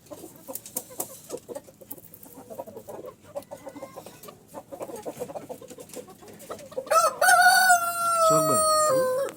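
A tiny chicken with an injured leg and others in the flock cluck and chatter in short bursts, then a rooster crows loud and close near the end.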